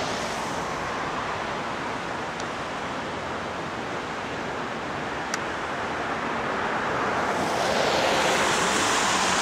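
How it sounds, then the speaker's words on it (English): Big Thompson River floodwater surging through a muddy outdoor hockey court in Loveland, Colorado, a steady broadband rush that swells slightly louder near the end, with wind buffeting the microphone and no voices. "And the river is still flowing through here, flowing through this whole area."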